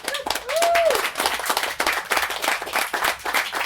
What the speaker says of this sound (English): let's everybody give our service tops and DMs a round of applause